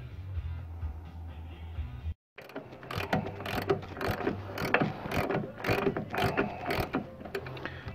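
Rapid ratchet clicks from a wrench turning ball joint nuts on a 2003 Dodge Durango, starting after a brief quiet hum and continuing in close, uneven bursts of ratcheting.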